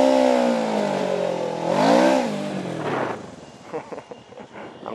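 A motorcycle engine revs once, its pitch climbing and falling over about a second, then settles into uneven, sputtering pulses near the microphone.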